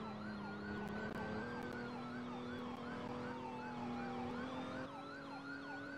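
An ambulance siren in the Roblox video game wails continuously in a rapid rising-and-falling pattern over a steady engine hum, heard at moderate distance and fairly faint throughout.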